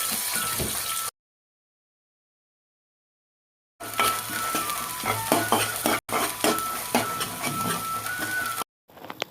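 Onions frying in oil for a fish curry are stirred in a pan: scraping spoon strokes and clinks over a constant sizzle, broken by stretches of silence.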